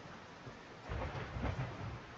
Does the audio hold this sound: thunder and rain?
yes